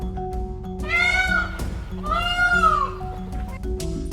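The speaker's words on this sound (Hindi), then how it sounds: "This is peacock." A peacock gives two loud, rising-and-falling wailing calls close by, each about a second long with a short gap between them, over a low steady hum.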